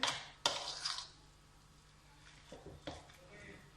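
Kashmiri kebab mixture with egg is stirred in a bowl, giving a few quiet clinks and scraping clatters near the start and again toward the end, with quieter stretches between.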